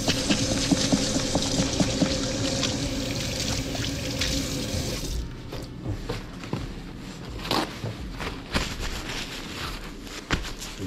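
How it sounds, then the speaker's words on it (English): Hands being washed under a running tap, with a loud steady stream of water that thins into uneven splashes and drips partway through. "I'm going to wash it."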